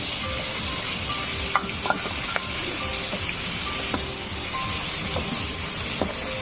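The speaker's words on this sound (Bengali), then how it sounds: "কড়াই ভিতরে সরষের তেল দিয়ে দিছি, দিয়ে মাছটি দিয়ে দিতেছি" Puti fish frying in mustard oil inside a wok, a steady dense sizzle and hiss throughout with a few faint clicks of utensils, no talking.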